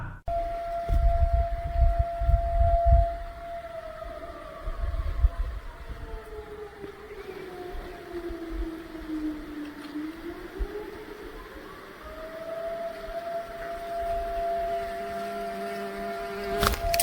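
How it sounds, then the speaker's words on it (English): An air raid siren wails through a forest, its long tone sliding slowly down and back up again, heard at a distance, with a brief low rumble near the start. "the wail of an air raid siren echoing through the trees"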